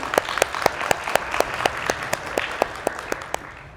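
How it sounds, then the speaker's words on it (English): Audience applauding at a New Mexico school leadership event, a steady patter of many hands clapping with sharper individual claps standing out, moderately loud and continuous with no talk over it. "Let's give them a round of applause."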